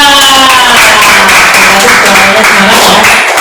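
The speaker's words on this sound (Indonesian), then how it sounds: "Tepuk tangan untuk kita." Classroom clapping from a group of pupils, loud and continuous for a few seconds, with a teacher's voice in the room.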